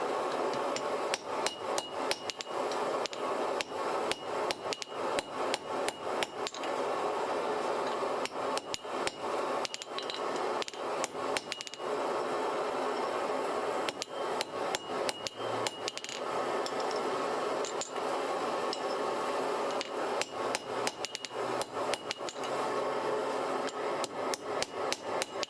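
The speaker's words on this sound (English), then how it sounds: "I go back to the anvil and use a cutoff tool to trim off the excess material" Rapid, ringing hammer blows on hot steel over an anvil cutoff tool, trimming excess material while forging an axe, struck in steady bursts with brief pauses, loud and close, with no voices.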